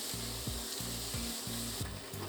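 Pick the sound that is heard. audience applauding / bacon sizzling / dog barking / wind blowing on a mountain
bacon sizzling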